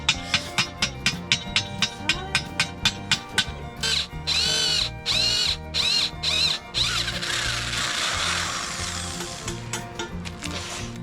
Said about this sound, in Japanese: タップでネジを切りました。